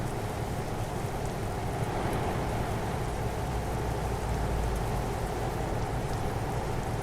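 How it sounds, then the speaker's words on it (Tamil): Steady rain falls in Euro Truck Simulator 2 while a Volvo truck drives at midday, a dense, even hiss of drops on surfaces that holds at the same loudness throughout, with no talking. "மழை பெய்யுது. அதுவும் மத்தியானம் டைமில் மழை பெய்யுது."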